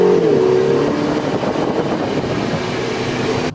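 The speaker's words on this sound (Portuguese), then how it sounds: "A gente tá de Ferrari" A Ferrari sports car's engine drones loud and close as it rolls along a road back from the beach, a brief rising rev at the start settling into a steady roar, with no talk.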